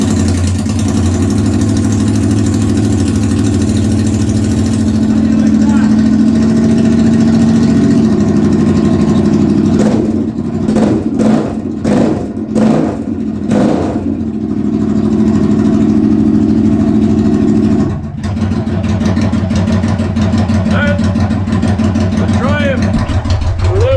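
A Triumph America motorcycle with its mufflers removed runs loud and close, a deep rumbling idle broken by a burst of sharp throttle blips before it settles back, with a voice speaking over the engine.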